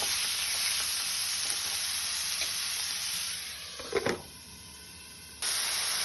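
Chicken frying in a pan gives a steady, close sizzle and hiss. The sizzle briefly drops and then returns, with a short clatter as it is stirred.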